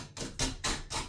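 Three quick scraping strokes of a chisel cutting out a flimsy drywall patch in a bathroom, close and rhythmic, each a short gritty rasp separated by brief pauses.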